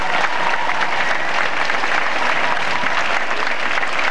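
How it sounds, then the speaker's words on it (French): Applause from the audience at a school music academy's production of Les Misérables, loud and sustained, a thick even wash of clapping filling the whole stretch with no break. "J'aimerais ça qu'on l'applaudisse."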